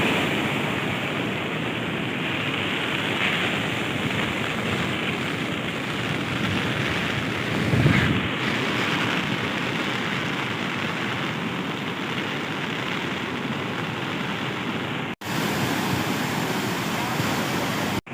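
Floodwater from a swollen river surging along a washed-out road near a village, a steady loud broadband roar of churning waves and gusting wind that continues unbroken throughout.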